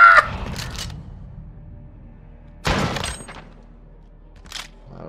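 Shotgun blasts in the multiplayer shooter Call of Duty Modern Warfare, a sharp crack at the start and another at mid-clip with a faint later shot, separated by quiet gaps.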